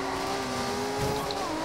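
A Nissan GT-R races in the video game Forza Horizon 2, its engine a steady, sustained drone with a faint tire squeal, loud and continuous.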